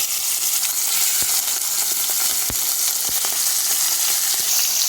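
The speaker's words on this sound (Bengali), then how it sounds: "এবার আমি এখানে মাংসগুলো একটু ফ্রাই করব।" Duck meat frying in hot oil over a low flame, a steady dense sizzle with occasional sharper pops and crackles throughout.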